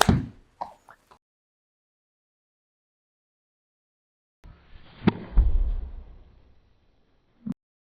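Short golf shots struck with a club: a few quick soft clicks at the start, then after a long silence one crisp strike followed by a fading rustle and a final faint tap.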